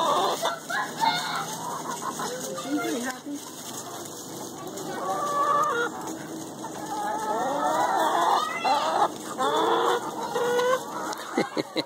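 Many chickens in a hen house cluck and squawk close by, overlapping in busy bursts, with people talking now and then in the background.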